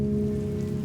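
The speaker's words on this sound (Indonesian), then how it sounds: "Hujan deras mulai turun." Dense, steady rain pours down without a break, a constant full hiss of water on surfaces with a low rumble underneath.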